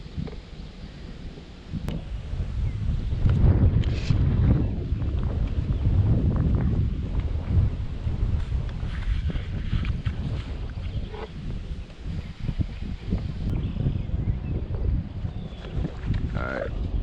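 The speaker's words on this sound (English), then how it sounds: "This wind is kicking my ass." Strong wind buffets the microphone on a fishing outing over scum-covered water, a loud, continuous low rumble that swells and gusts throughout.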